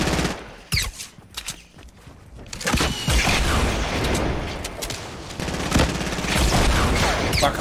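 Gunfire in a battle-royale video game, with rapid loud bursts of automatic shots and single cracks repeating close by, almost without a break.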